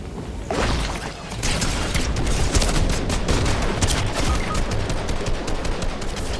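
Sustained rapid gunfire in the video game Fortnite, a dense continuous fusillade of loud automatic shots running almost unbroken from start to finish with mechanical clatter mixed in.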